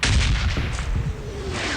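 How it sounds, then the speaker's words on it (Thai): Deep, booming bombardment explosions in PUBG Mobile rumble one after another at close range, heavy and low with a rolling aftershock. "ระเบิดจะลงกันนำเลยนะครับ"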